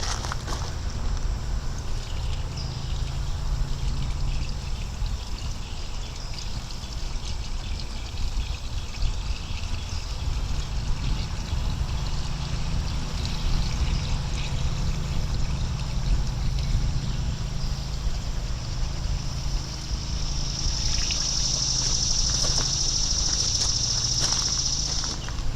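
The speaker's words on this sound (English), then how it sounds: "I'm going to go ahead and just pour a little bit of coolant in there." Coolant pours steadily into the radiator of a 1997 Chevy Suburban, a continuous liquid trickle and splash that runs without a break for about 25 seconds, close and fairly loud, with no talk.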